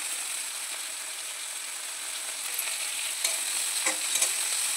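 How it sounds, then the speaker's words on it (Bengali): Shrimp frying in a pan alongside a little thinly sliced potato, giving a steady close, bright sizzle with light stirring scrapes toward the end, and no talk. "এবার আমি চিংড়ি মাছগুলা ভালো করে ভেজে নিচ্ছি"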